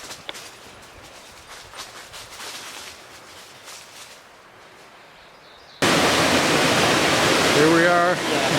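Stream water flowing at a swimming hole in the woods of the White Mountains, a loud, steady broadband rush that starts abruptly after a quieter stretch, with a voice speaking over it near the end.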